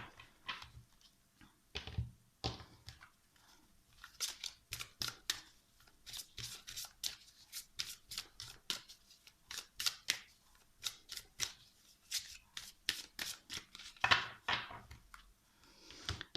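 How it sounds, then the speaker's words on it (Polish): Tarot cards are shuffled by hand in a quiet room, giving repeated crisp riffling and slapping bursts in an irregular rhythm, close and fairly soft, with no talking. "teraz kończę tasowanie kart na rozkład na miesiąc luty 2020 roku dla baranów"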